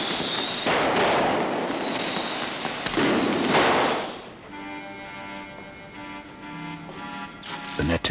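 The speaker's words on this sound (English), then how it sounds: "indoor firework display had self-ignited" An indoor firework display that has self-ignited crackles and fizzes loudly with sharp whistling bursts, then gives way to a steady mechanical hum and faint background sounds.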